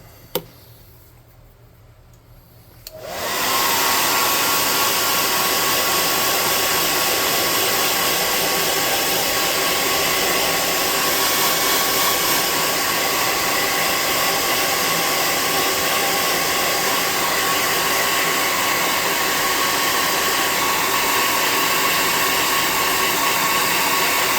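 A hair dryer starts after a few seconds of quiet and then blows steadily and loudly for the rest of the clip, drying glue on a tabletop terrain project built from Jenga blocks.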